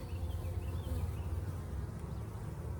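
Honey bees buzz at an open hive in a dense, continuous drone, close and steady for the whole stretch, with no talking.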